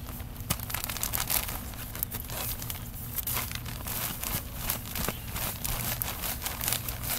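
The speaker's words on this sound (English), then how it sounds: "So I'm going to cut the top across." A bag of potting soil or compost is cut open across the top, giving steady crinkling and tearing plastic noise throughout, close and fairly loud, with no talking.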